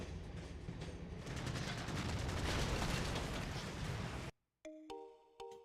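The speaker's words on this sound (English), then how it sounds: "Why do I hear gunfire?" Dark Cloud 2 video game gunfire near a train: a dense, loud burst of rapid shots for about four seconds, then a sudden cut to quiet game tones and a few sharp hits.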